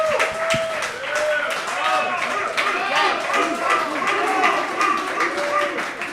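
Crowd claps and cheers at a live happy hour show for a college football season kickoff at a bar, a steady wash of applause and chatter with talk over it throughout.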